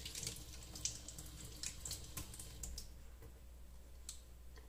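Tap water runs steadily into a sink while makeup brushes bought from AliExpress are rinsed under it, a soft continuous wash of water with faint ticks and clicks from handling, no talking.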